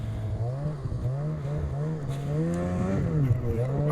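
A Ski-Doo Backcountry X-RS 850 turbocharged two-stroke snowmobile engine revs up and down in rising and falling sweeps, loud and close, with no talking over it.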